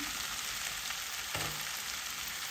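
Potatoes and onions fry in a pan for a Punjabi potato and moongra sabzi, giving a steady close, dense sizzle with no one talking and one brief stir or clink partway through.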